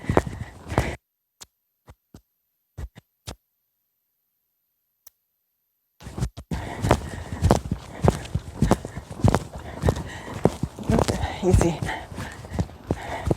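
Reactive horse cantering under a rider: a few isolated knocks and a quiet gap, then dense rhythmic hoofbeats close by, with a voice speaking briefly.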